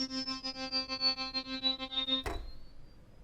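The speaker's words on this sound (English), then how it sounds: "when we release the key, we're going to get a sudden brightening of sound" An Arturia Prophet V synthesizer holds a buzzy, pulsing tone with a wobbling upper sweep, then on key release the sound abruptly brightens into a short burst of noise that quickly decays to near silence.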